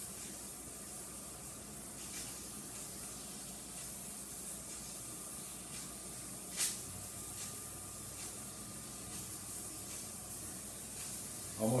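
Steady broadband hiss of escaping steam from a pressure canner nearing 10 pounds of pressure runs throughout, with faint rapid rattling and a sharper burst near the middle, like the pressure weight starting to jiggle.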